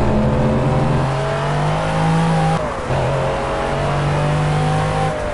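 A race car engine drones steadily from the cockpit in the Project Cars video game, a loud, even hum that dips briefly midway and then picks up again, with no speech.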